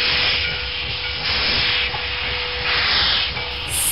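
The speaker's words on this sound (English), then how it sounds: "Steam locomotive." Steam locomotive releasing loud, continuous hissing steam bursts that swell and ease in waves, with a faint train rumble underneath.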